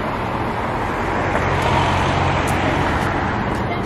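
Dense city traffic rumbles continuously, cars passing close by in a steady, loud roadway roar with no breaks and no voices.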